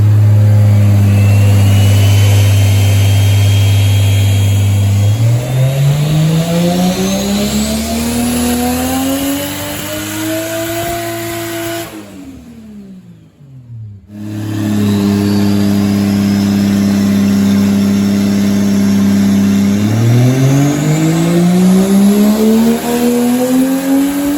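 A turbocharged 2JZ-GE non-VVTi engine in an RHD Toyota Supra Mk4 screams on a dyno at high boost, its loud revs sweeping up in long pulls, dropping sharply off, then climbing again.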